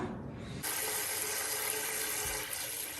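Tap water runs into a kitchen sink while raw chicken is being rinsed, a steady, close hiss of flowing water that starts abruptly and continues evenly.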